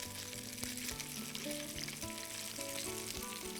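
Salmon sears flesh side down in a hot pan, a steady close sizzle holding evenly throughout with faint tonal sounds in the background and no speech.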